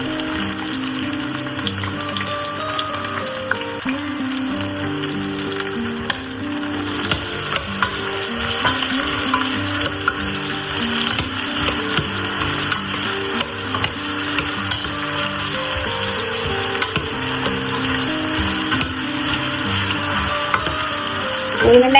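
Sliced green capsicum goes into a hot pan of prawn biryani base and fries with a steady, close sizzle, with stirring scrapes and clinks running through it the whole time and no voices.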